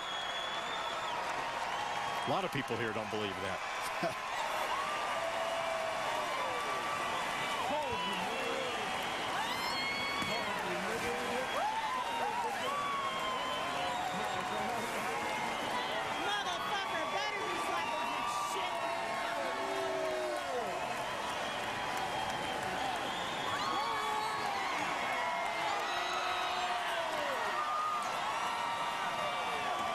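Racetrack crowd at the Breeders' Cup Classic cheering and applauding as the mare Zenyatta returns: a dense, continuous roar of voices, whoops and clapping, steady throughout, with someone talking over it.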